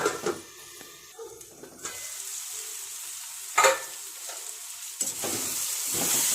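Capsicum and tomato curry being stirred in a pan, with several scraping stirs and a soft cooking sizzle under them. The sound is fairly quiet and close, and no one speaks.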